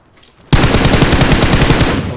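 Rapid automatic gunfire in PUBG Mobile, a loud, dense burst of evenly spaced shots that starts abruptly after a quiet moment and keeps going to the end.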